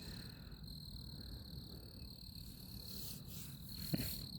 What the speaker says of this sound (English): the crickets plays the violin